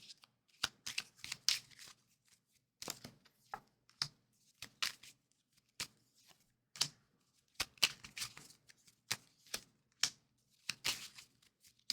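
Tarot cards are shuffled by hand in repeated short riffling bursts with brief pauses between them, close and fairly quiet, with no talking.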